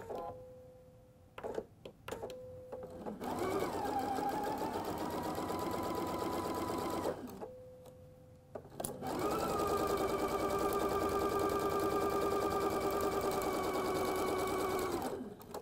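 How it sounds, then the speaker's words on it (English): A sewing machine runs a quarter-inch seam through quilt fabric for a flying geese block, with brief taps and a short pause between two long, even, close-up bursts of humming stitching. "I'm going to sew a quarter of an inch on the other side of the line"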